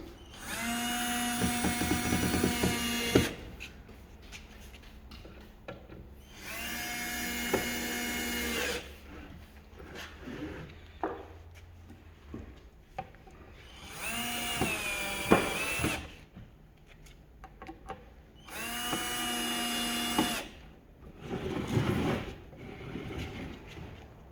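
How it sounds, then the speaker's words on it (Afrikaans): A power screwdriver drives screws into a cabinet being assembled, with several separate whirring bursts of a few seconds each, pitch bending as screws tighten, and clicks and handling knocks between bursts. "dan vra jy vir Kiki om sommer gou die kassie in mekaar vas te skroef"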